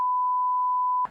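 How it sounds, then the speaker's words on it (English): A single sustained censor bleep, a steady mid-pitched sine tone lasting about a second and masking a word in commentary on a televised interview, ending as speech briefly resumes. "not only did Piers Morgan beep out some of the words, but we further beep out some of the words as well."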